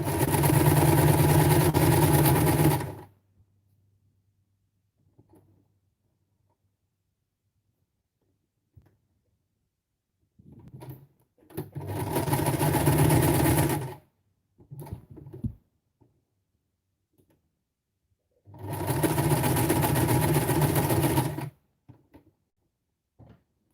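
Sewing machine stitching fabric scraps with white thread, three loud bursts of fast steady whirring, each a few seconds long, separated by quiet pauses with faint handling noises.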